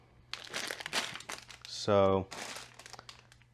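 Plastic bags of BlueBrixx building parts crinkle and rustle close up while someone talks over the handling.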